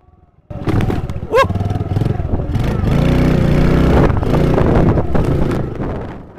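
Motorcycle fitted with a dash cam riding over a very bumpy pasture, its engine a loud, steady drone with rattling and strong wind buffeting across the clip after a quiet start.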